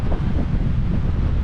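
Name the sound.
strong wind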